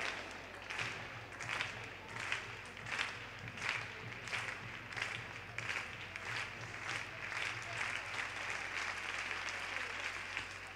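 An indoor track meet audience claps rhythmically in unison for a long-jump athlete, a steady beat of crowd claps in a reverberant hall that continues throughout, with faint speech underneath.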